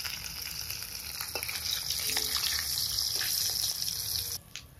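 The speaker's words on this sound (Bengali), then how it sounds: "গরম তেলে 3 পিস মাছ প্রথমে ভাজতে দিচ্ছি।" Pieces of rohu fish frying in hot mustard oil in a pan, a steady close sizzle and hiss running throughout with small pops, easing off sharply near the end.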